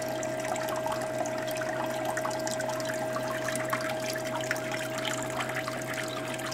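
Water running steadily through a magnetic gold sluice used for fine gold, a continuous close rushing and trickling flow over a constant hum, with no talking.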